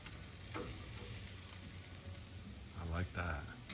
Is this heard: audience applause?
no